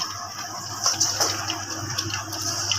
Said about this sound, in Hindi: इसलिए कम कम पानी डालना है अच्छे से